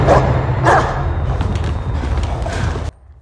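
A dog barking in a film, two sharp, loud barks near the start over a heavy low rumble, followed by an abrupt cut to near silence.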